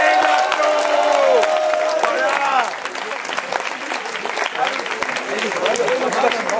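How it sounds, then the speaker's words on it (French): Audience at an eloquence contest applauding a prize winner: dense clapping and some cheering from a crowd, loud at first and then continuing at a slightly lower level, with a voice talking over the start. "mais on va quand même l'applaudir."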